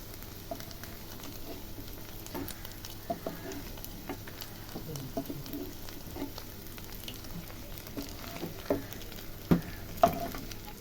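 Dry red chillies frying in oil: a faint, steady sizzle with soft crackles and a few louder pops toward the end, quiet and close.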